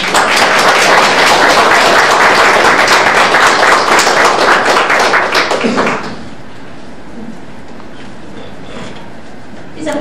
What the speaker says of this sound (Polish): brawa dla Państwa